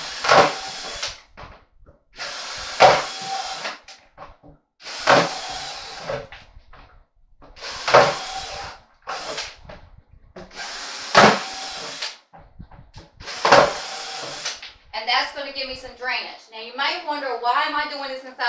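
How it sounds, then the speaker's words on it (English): A power drill whirs in six short bursts with pauses between them, drilling holes in the bottom of a plastic bucket indoors, close and loud; a voice speaks briefly at the end. "I'm drilling 6 holes in the bottom of this bucket."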